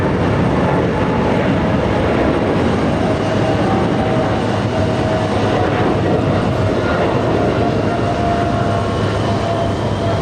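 Jet airliners at JFK airport give off a loud, steady engine roar with a faint whine riding on top, continuous for several seconds without voices.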